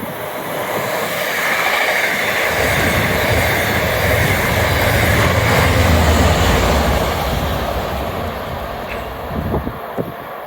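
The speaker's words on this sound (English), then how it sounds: "That track sound that made on the orange line's interesting." An MBTA Orange Line train rolls over the track at Forest Hills station, a steady broad rumble with rattling that swells and holds, then eases toward a few sharp knocks near the end.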